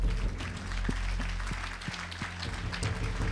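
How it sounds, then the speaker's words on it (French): Audience applause at the 2014 Pierres d'Or awards ceremony, a soft, distant spread of clapping under a low hum, with faint regular thumps showing through. "On les applaudit tous les 5."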